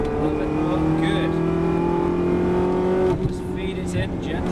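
Ferrari engine at Silverstone circuit pulling steadily on throttle, a sustained loud drone with rising harmonic tones, briefly dipping near the end as power eases, with an instructor's voice talking over it.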